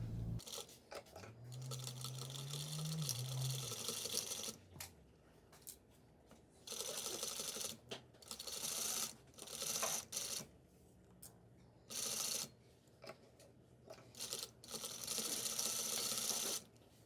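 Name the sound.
sewing machine stitching striped pillow fabric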